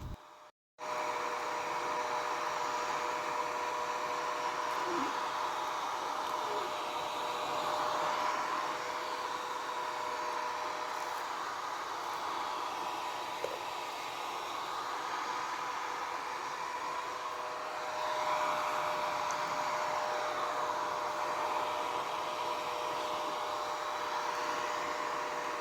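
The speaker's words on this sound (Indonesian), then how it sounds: "Suara hair dryer ini nggak bahaya." A hair dryer blows steadily for over twenty seconds, a continuous whooshing whine with slight surges as it moves, close by and alone.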